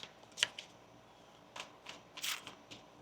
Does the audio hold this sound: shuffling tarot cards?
yes